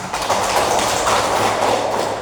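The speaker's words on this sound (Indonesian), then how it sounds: "Jadi yang tidak terlambat itu kita berikan aplaus." Classroom applause fills the space, a dense burst of clapping from many pupils that stays loud and even, then tapers slightly at the end.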